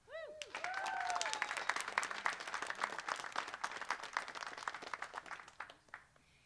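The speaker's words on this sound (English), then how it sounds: "can we please give Supervisor Mar another round of applause" Applause from the audience at a San Francisco City College press conference, a crowd of many hands clapping briskly at moderate distance, swelling in and then thinning out, with a brief voice at the start.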